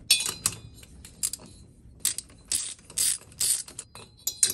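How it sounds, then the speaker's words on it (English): A 13 mm deep well socket on a ratchet loosens the head nuts of a 66/80cc motorized bike engine, giving close, sharp bursts of rapid clicking with short pauses between strokes. "I use a 13 millimeter deep well socket and remove those."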